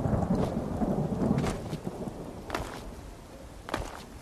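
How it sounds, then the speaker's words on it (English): Thunderstorm in Skyrim: steady rain hiss under several deep thunder rumbles and cracks, the loudest early on, then a few more distant peals as the rain continues. "There's a storm."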